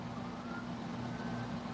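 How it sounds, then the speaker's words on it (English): Police sirens outside after an earthquake, a steady wailing tone held throughout with a low rumble of traffic, heard from a distance and without talking. "now there's some police sirens"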